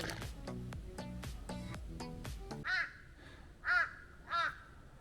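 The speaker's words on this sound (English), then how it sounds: "No sound other than this crow." A crow caws on a mountainside, first a rapid run of harsh calls, then three slower, separate drawn-out caws, clear and fairly close against a quiet backdrop.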